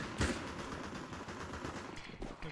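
Dual Beretta pistols in Counter-Strike 2 fire a few faint, quick shots, one near the start and a couple more toward the end, over a low background hum.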